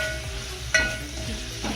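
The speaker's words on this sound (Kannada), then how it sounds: "ಆಮೇಲೆ ಇದು ಒಣ ಕೊಬ್ಬರಿ, ಇದನ್ನು ಇದಕ್ಕೆ ಹಾಕಿ ಚೆನ್ನಾಗಿ ಫ್ರೈ ಮಾಡಿ" Grated coconut and dry copra frying in a pan, a continuous close sizzle with a sharp clink of a utensil midway and light stirring scrapes.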